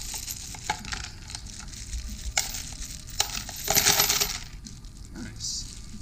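Small metal screws and bolts tumble into a container in a string of sharp clinks and rattles, ending in a louder jangling pour near the end, close and unaccompanied by voices.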